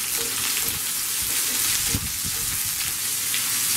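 Sliced onion and green chilies sizzle steadily in a hot pan for an Indian egg curry, a close, continuous frying hiss with a few soft stirring knocks and no talking.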